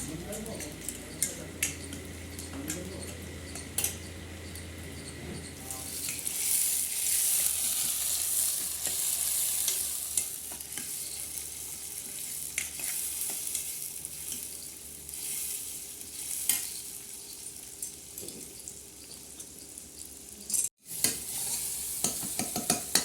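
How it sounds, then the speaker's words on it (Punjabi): Steady sizzling of spices frying in hot oil for dal tempering on a clay stove, continuous and fairly close, with soft clinks of a utensil and a few brief sharp taps. "ਲੋ ਜੀ ਇੱਧਰ ਲੱਗ ਗਿਆ ਸਾਡਾ ਤੜਕਾ"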